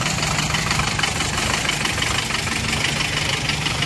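Diesel engine of a 1962 Mercedes L319D camper van idling on a cool morning, a steady, dense knocking rumble that stays loud and unchanging throughout.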